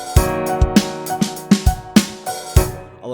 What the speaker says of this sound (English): what you're left with is the cool syncopation sound